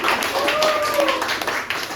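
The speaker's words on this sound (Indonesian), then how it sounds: "Tepuk tangan lagi untuk kita" A school class of students applauding, producing a steady, dense wash of clapping that continues throughout at moderate loudness.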